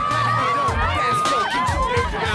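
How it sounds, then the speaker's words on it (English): Crowd of curious onlookers gathering on a Tokyo street, a dense babble of voices with shouts and excited calls, close and continuous, with a music track running underneath. "it's a crowd"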